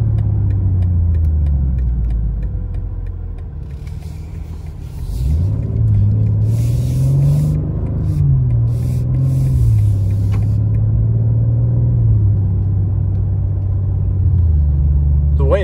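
A BMW M2 G87 just after break-in service accelerates hard from inside the cabin, its deep engine drone climbing steadily through the gears with brief dips at the shifts, loud and continuous.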